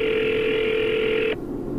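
A single steady telephone tone sounds through a handset while calling a driver, holding evenly for over a second before cutting off into faint line noise.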